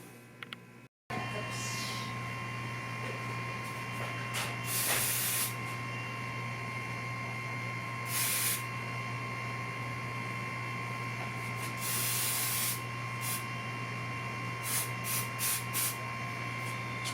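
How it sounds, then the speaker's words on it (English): Spray adhesive hisses in several short broadband bursts onto a DIY C-Note speaker cabinet before cloth covering, over a steady hum of background noise. "Glue's weird. It sprays in a dang up and down pattern like that."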